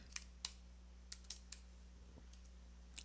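Several separate key clicks on a computer keyboard as a Windows command is typed, sparse and irregular over a steady low electrical hum, fairly faint with no talking.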